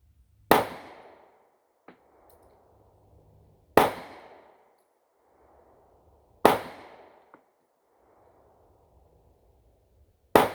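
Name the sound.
pistol shots from US model 1911 and P08 Luger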